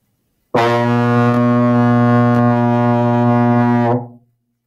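A single sustained low euphonium note, rich and steady, holds for about three and a half seconds and then fades out into silence.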